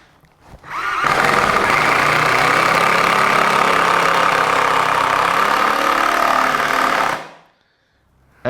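A cordless drill runs in screwdriver mode for about six seconds, a loud, steady, buzzing motor whine close up, rising from near silence and stopping cleanly.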